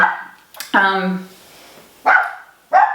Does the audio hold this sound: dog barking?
yes